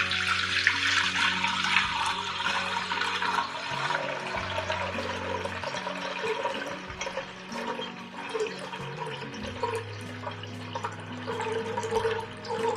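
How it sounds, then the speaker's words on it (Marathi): Water being poured off settled wheat starch into a pot while making traditional Maharashtrian kurdai, a steady close splashing, trickling flow that runs continuously throughout. "वरचे पाणी आपण अलगद असे काढून घेऊ."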